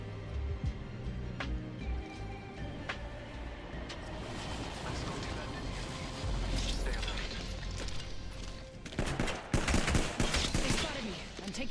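Apex Legends game gunfire played on keyboard and mouse: scattered shots early, then denser bursts of rapid automatic fire toward the end, mixed with game movement and effects at steady loudness.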